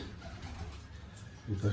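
Pigeons in a loft with space for about fifty birds, a low steady background that swells into a near, deep throaty cooing near the end.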